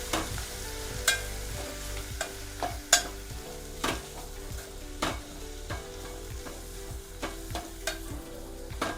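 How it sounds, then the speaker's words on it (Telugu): Mint leaves and grated coconut stir-fried together in a pan for an instant coconut chutney: a steady soft sizzle with regular scraping strokes of a spatula, close and clear, no talking. "పుదీనాను కొబ్బరి రెండు కలిపి వేయించుకోవాలి"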